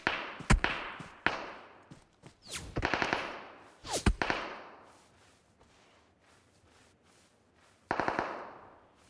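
Gunfire in PUBG on the Erangal map: several sharp bursts of rapid automatic fire, loud and close, separated by quieter gaps, with a final burst near the end.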